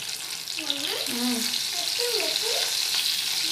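Eggplant (baingan) frying in a pan for an Indian dish, a steady close sizzle with faint scraping and stirring underneath throughout, and no speech.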